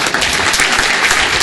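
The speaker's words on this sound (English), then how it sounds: "Give a round of applause." Steady, dense applause from a city council meeting audience fills the whole moment, close and loud with no break.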